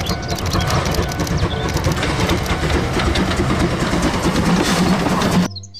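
A Thomas toy train runs continuously with a steady mechanical rattle and clatter, close and loud throughout, then cuts off abruptly near the end.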